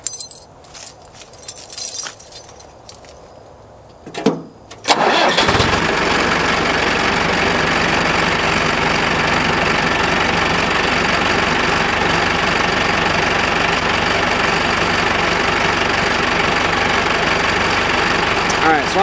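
Machine engine cranks and catches after a hydraulic cylinder repack, then runs at a loud, steady idle with a knocking rattle and metallic clinks; scattered clatter and handling noises come before startup.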